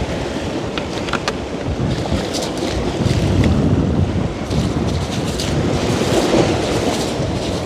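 Ocean waves wash onto the shore at night in downtown Kingston, a steady loud roar of surf and rushing water that swells and recedes across the whole stretch, with nobody speaking.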